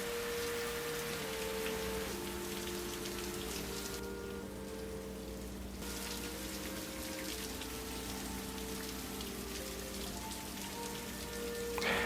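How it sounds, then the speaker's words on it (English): Steady rain falls in an anime episode, a dense continuous patter that holds throughout, with sustained musical tones playing softly underneath and no talking. "Rain's never a good sign, at least in anime."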